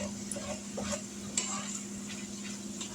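Seasoned hamburger meat frying in a pan, a quiet steady sizzle with a few soft scrapes and clicks of a utensil stirring, with a faint hum underneath.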